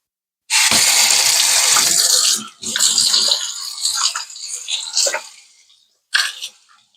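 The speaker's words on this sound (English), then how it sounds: "Wash my hands again." Hands washed under a running kitchen tap while preparing steak jerky: a loud, steady rush of water for a couple of seconds, then splashing and rubbing, a short pause and a final brief splash.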